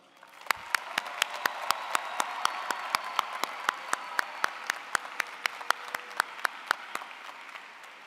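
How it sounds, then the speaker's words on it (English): A crowd at a university commencement ceremony applauds steadily, with sharp distinct claps from one nearby person standing out over the continuous patter of many hands. "One more round of applause."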